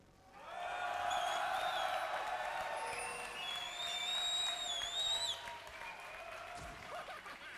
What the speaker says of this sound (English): let me hear you guys cheer in the audience